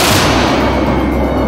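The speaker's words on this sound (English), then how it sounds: "When firing the cannon, two curves on the indicator represent the impact zone." Cannon fire from an Su-27 fighter jet gives a dense, continuous roar of rapid shots, loud and sustained throughout with no pauses or voices.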